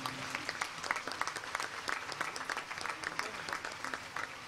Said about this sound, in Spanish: un gran aplauso a María de la Consolación